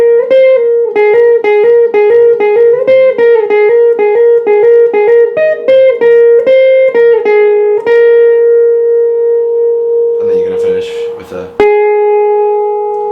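Clean electric guitar plays a riff as a lesson demonstration, a steady run of repeated picked single notes with ringing sustain, followed by a brief noisy burst and then a held note ringing out.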